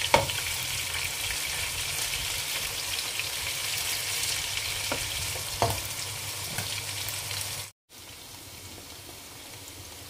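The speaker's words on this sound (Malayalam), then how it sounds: "ചിക്കൻ നന്നായി ഫ്രൈ ആയിട്ടുണ്ട്." Chicken pieces frying in hot oil for biryani, a dense close crackling sizzle with a few sharp pops, steady until a brief cut before it resumes.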